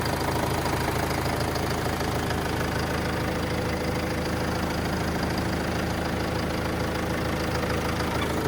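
Continuous close engine idle of a 2009 Opel Vivaro passenger van with a 2.5-litre, 150 hp engine, an even low-pitched rumble with a steady mechanical chug that holds unchanged throughout.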